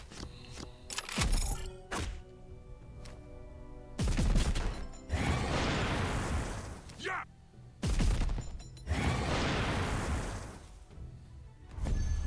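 Grenade explosions in a video game, several loud booming blasts with crashing decays separated by quieter gaps, and a voice talking between them.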